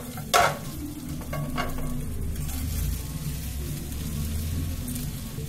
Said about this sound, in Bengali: চালটা বেশ 2-3 মিনিট মতো একটু ভেজে নিতে হবে